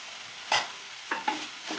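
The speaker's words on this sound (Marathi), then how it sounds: "पालक परतून घ्यायचा।" Spinach is stirred and sautéed in a pan for dhaba-style lasuni palak, with a few distinct spoon scrapes over a soft, steady sizzle, close and alone.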